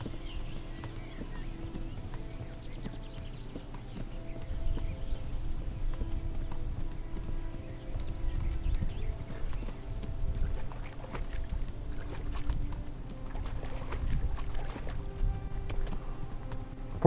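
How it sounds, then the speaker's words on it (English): A horse's hooves clip-clop steadily at a riding pace through a forest in Kingdom Come: Deliverance, with the rhythm continuing over a low background rumble. "I got autopilot on the horse right now."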